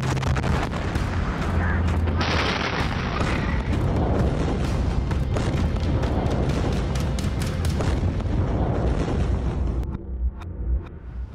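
Deep booming blasts and rolling rumble from the explosions in Beirut, Lebanon, loud and continuous for several seconds before dropping off sharply near the end, with no talk.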